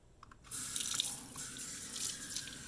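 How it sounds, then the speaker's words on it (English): Cold water from a kitchen tap runs steadily onto an ENJO Scrubi fibre scrubber at a sink, a continuous close splashing hiss that starts after a brief quiet moment and carries on alone. "So now I'm going to take some cold water and I'm going to do a little mist."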